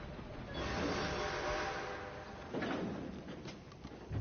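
A train in Red Dead Redemption 2 rolls along with a steady rumbling clatter of wheels and cars, swelling and easing slightly at moderate distance.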